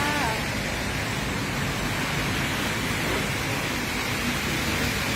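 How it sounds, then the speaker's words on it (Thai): Steady, dense afternoon rain falls without pause in Ekkamai, Bangkok, a constant broadband hiss with no breaks or other sounds standing out. "เอาภาพบรรยากาศฝนตกมาให้เพื่อนเพื่อนชมค่ะ"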